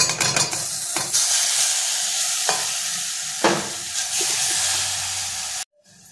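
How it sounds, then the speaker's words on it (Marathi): Masoor dal poured into a hot oil tempering in a pan, a loud burst of sizzling and hissing that keeps frying steadily with a few stirring clinks, then cuts off abruptly near the end. "आणि आपल्याला आता इथे ही डाळ ओतायची आहे"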